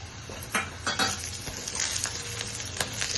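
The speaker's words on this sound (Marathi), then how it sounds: "कांदा आपला चांगला भाजलेला आहे ह्याच्यातच धने टाकून देऊया आपण आणि ही लसूण टाकून घेऊया" Coriander seeds and garlic hit hot oil with fried onion, sizzling steadily up close, with a few sharp clinks of a spoon against the pan.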